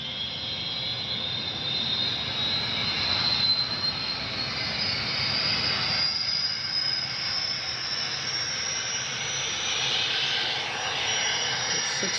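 A Scale Trains Rivet Counter Big Blow Turbine 8500 GTEL model locomotive with a LOKSound decoder runs at high speed with the turbine on: a continuous high whistling whine over a rushing, rumbling drone. The sound stays steady throughout.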